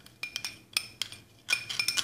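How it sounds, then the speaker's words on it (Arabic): A small teaspoon stirring vinegar in a dish, a string of light metallic clinks against the bowl in quick groups with short pauses between them, close and quiet, with no speech. "سأضيف مقدار ملعقة صغيرة من الخل وأخلط بهذا الشكل."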